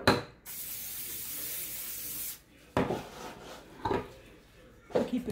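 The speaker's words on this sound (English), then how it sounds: "I'm going to put nonstick cooking spray on top of it." A hissing aerosol spray lets out one long burst lasting about two seconds, followed by some soft rubbing and handling noises.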